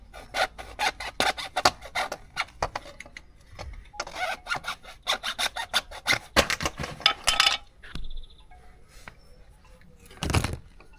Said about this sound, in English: Just use a bit of sandpaper to take off the burr